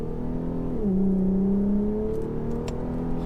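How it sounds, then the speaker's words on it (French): An Infiniti Q50S with a 364 hp V6 revs while driving, its engine tone dipping and then climbing again, a smooth, loud whirring note heard from inside the car. "la sonorité du moteur c'est absolument génial"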